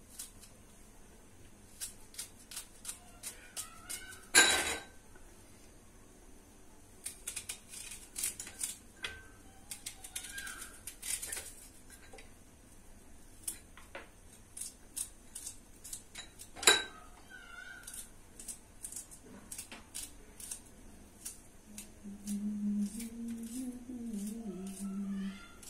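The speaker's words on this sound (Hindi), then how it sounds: "बारीक बारीक प्याज काटेंगे" Knife finely chopping onions in a home kitchen while cooking aloo puri sabji: a steady stream of light, irregular tapping clicks on a board, with a couple of louder knocks along the way.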